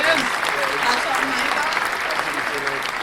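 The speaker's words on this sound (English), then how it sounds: "a round of applause for Rox." A studio crowd claps for podcast guest Rox in a loud, steady burst of applause that holds evenly for about three seconds.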